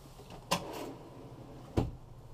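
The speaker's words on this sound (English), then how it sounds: "Nice drawer underneath there." Drawer sliding open or shut in a 2018 Thor Motor Coach Chateau 28Z motorhome interior, heard as two distinct close thumps about a second apart with a soft slide between them, no talk over it.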